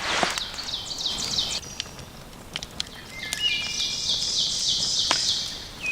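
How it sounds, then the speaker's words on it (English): A wood thrush sings flutelike, ringing phrases from some distance, other bird chirps scattered around, with light rustling and pattering close by. "my wood thrush is right up there somewhere, if you can hear him"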